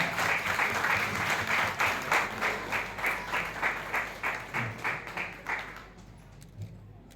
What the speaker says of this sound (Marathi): पवार सरांसाठी जोरदार टाळ्या.